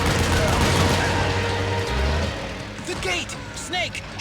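Gunfire in the video game Metal Gear Solid 4, a dense loud volley of shots and booms fading into scattered ricochet-like chirps, with people talking over it.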